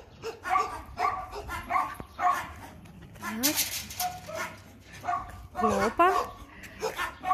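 Several dogs bark and yip in outdoor shelter enclosures on a hot day, with bursts of barking near and far and some whimpering, mixed in with a person talking briefly.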